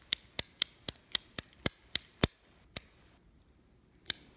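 Sharp clicks from a handheld fidget toy with a switch-like mechanism, about ten loud, evenly spaced snaps in quick succession, then a pause and one last click, close up with no talking.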